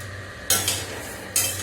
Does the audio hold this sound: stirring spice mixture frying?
yes